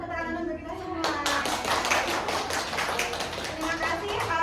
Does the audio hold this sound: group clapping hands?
yes